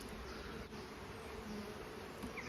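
Honey bees buzzing around an open hive as frames are fed with 2-to-1 syrup, a faint, steady, continuous hum with no one talking.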